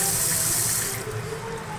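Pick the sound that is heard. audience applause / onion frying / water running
water running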